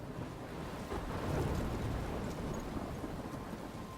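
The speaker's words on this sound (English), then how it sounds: "I'm trapped in a storm?" A thunderstorm in the video game Life is Strange, with steady rain and a low rumble of thunder swelling and fading, fairly quiet and continuous with no voices.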